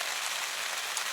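Steady, continuous rain falls on a surface outdoors during a hunting trip, a dense even hiss of drops with no voices, moderately quiet and unbroken.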